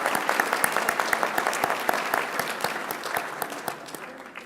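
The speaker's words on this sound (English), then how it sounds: "Please join me in a round of applause for their generosity." A crowd at a State of the City event applauds its platinum sponsors, a sustained patter of many hands with distinct individual claps standing out, moderately loud and fairly close.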